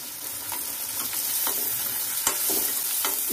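Capsicum being roasted and stirred in a pan for a water chestnut dish, a dense hissing sizzle with periodic spatula scrapes, close and steady.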